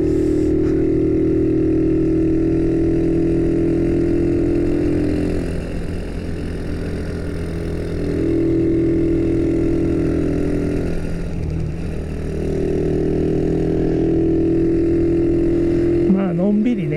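A Chinese Monkey clone motorcycle touring on a mountain road in Okutama gives a steady, droning single-cylinder hum with slight rises and falls, while someone talks over it throughout.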